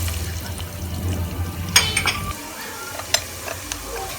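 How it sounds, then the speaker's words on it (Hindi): Ginger and garlic sizzle in a hot pan over medium flame while a utensil stirs and scrapes, with a few sharp clinks against the metal; close and moderately loud. "इसको अब हम आधे मिनट के लिए फ्राई करेंगे मीडियम फ्लेम पर"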